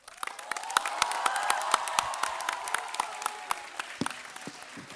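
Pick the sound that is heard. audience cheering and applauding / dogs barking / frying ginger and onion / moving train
audience cheering and applauding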